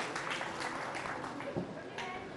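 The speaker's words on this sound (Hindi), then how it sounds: "मेरे बच्चे के लिए तालियां बजाएं।" Studio audience applause for a child on a Ramadan iftar television show, a faint, continuous patter of clapping with a voice mixed in.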